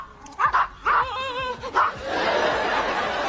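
Several dogs bark in short, repeated bursts in a tense scene, loud and close, with laughter-like sounds mixed in and a noisy rush after the barking.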